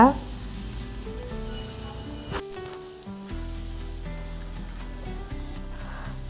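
Finely ground tomato paste sautéing in a hot pan, a constant sizzle with spoon stirring, one sharp clatter midway and a brief quiet gap before the sizzling returns.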